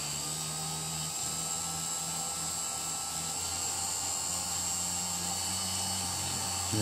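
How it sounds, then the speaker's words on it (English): A polishing wheel works a fossil echinoid, Scutellaster major, giving a steady close motor whine with a low hum whose pitch dips briefly as the piece is pressed against the wheel. "apply some on your wheel, and then start polishing."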